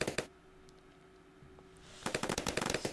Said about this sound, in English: I have Dartling Gunners fully upgraded.